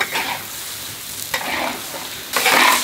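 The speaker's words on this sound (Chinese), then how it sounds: "翻炒几下，收一下汁就可以起锅了" Pork sizzles and is stirred in a wok as the sauce reduces for Sichuan cherry pork, with three bursts of scraping and frying noise over a low steady sizzle, close and loud, with no talking.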